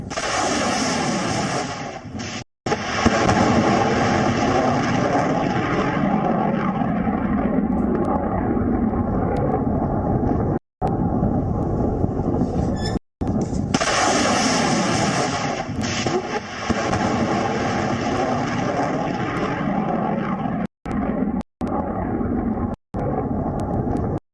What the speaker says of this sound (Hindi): किस तरह से ये मारक ओनिक्स मिसाइल हवा में जाती है और उसके बाद सीधे अपने टारगेट की ओर बढ़ती है।